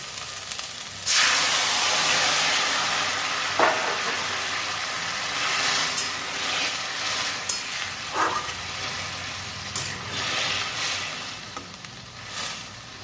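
Curry poured into a hot pan in a home kitchen sizzles with a loud, steady hiss that settles into a softer bubbling crackle, with a few light clinks from a utensil.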